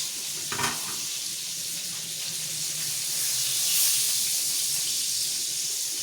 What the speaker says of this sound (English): So this way I'm gonna cook the fish.